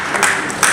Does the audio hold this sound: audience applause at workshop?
yes